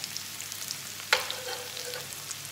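Carrot, garlic, onion and other vegetables frying in a pan as a base, a quiet sizzle with one sharp clatter of stirring midway, no talking.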